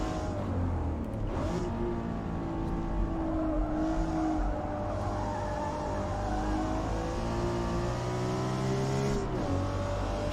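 Race car engine and exhaust in Forza Motorsport (2023): a steady, loud, buzzing drone that holds for the whole stretch, with slight pitch shifts as revs change and no voices over it.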